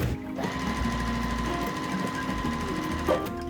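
A sewing machine stitches a quarter-inch seam joining quilt triangles, a steady close whirring hum that runs unbroken for a few seconds with a slight bump near the end.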